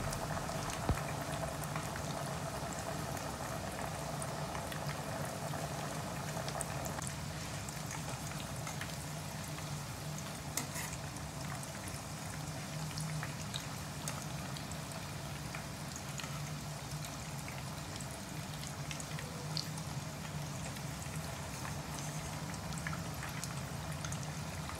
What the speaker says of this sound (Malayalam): ഇതൊരു ഗോൾഡൻ നിറമാവുമ്പോൾ നമ്മൾ എണ്ണയിൽ നിന്ന് വറുത്ത് കോരിയെടുക്കാൻ